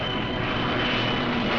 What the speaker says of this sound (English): fighter planes from Gibraltar, fitted with extra fuel tanks, took off without even waiting to hear whether the landing fields at Algiers had been captured